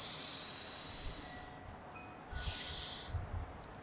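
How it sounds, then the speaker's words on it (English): Two long, steady breathy exhales during a breathwork exercise, airy and close, separated by a short quiet pause, with no talking. "Let it be a slow and nourishing exhale"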